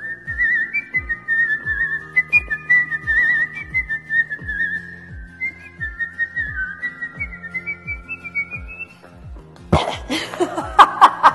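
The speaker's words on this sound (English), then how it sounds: "Whenever I have a whistling competition, I usually go like" A person whistles a tune on their own, a clear, wavering melody running steadily before it breaks off into a burst of laughter.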